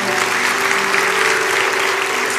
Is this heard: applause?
yes